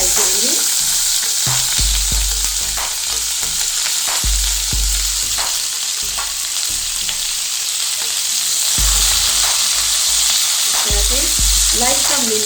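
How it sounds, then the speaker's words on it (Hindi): Capsicum, onion and tomato cubes frying lightly in oil for chicken shinwari: a steady, close sizzle runs throughout, with repeated spatula scrapes and knocks against the pan. "अब शिमला मिर्च, प्याज और टमाटर के क्यूब्स इसके अंदर डाल के इनको लाइट सा फ्राई करेंगे।"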